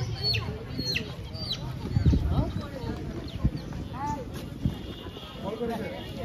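Chickens being thrown to crocodiles at a shrine pond in Bagerhat cluck and squawk in short bursts, along with bird chirps, beneath people talking nearby.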